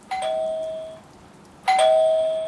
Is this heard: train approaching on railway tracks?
no